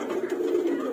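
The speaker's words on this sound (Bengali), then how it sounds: "এই হচ্ছে আমার লফটের মাদি কবুতর গুলো" Female loft pigeons coo as they come down to land, a low steady murmuring coo held close and fairly faint, without talk.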